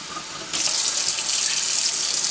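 Tap water gushes into a pressure cooker pot, starting as a softer trickle and jumping abruptly to a loud, steady hissing stream that runs on without pause.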